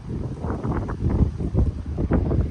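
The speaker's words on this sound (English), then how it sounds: "So the wind doesn't come blasting in the back." Wind gusting steadily across an island shore beside a small moored boat, a broad rushing roar with rising and falling gusts that buffet the microphone up close, no voices present.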